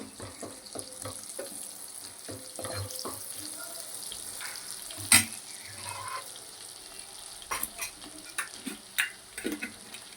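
Butter melting in a hot pan gives a soft, steady sizzle with scattered clinks and stirring taps, close by and moderately quiet, with a few sharper knocks toward the end.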